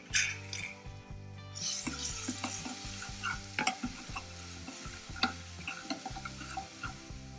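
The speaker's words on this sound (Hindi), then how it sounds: "तेल गर्म हो जाने के बाद मैं इसमें 1 चम्मच अदरक लहसुन का पेस्ट डाल के अच्छे से भून लूंगी।" Ginger garlic paste frying in hot oil in a pan, giving a steady crackling sizzle with occasional spoon stirs and scrapes, close up and with no talking.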